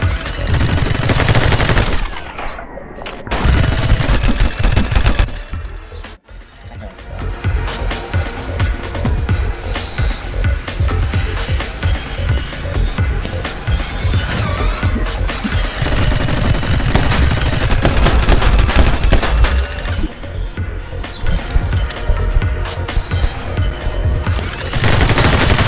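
Dense, loud gunfire in the video game My Friend Pedro, with continuous rapid shots and blasts over driving game audio and only brief gaps.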